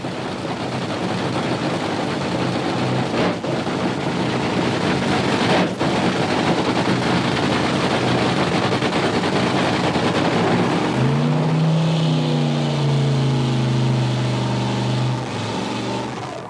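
A 1982 AHRA drag racing car's 8-cylinder engine at U.S. 30 Dragway fires up amid loud, steady background roar, then settles into a deep, throbbing rumble with rising tones for the last few seconds.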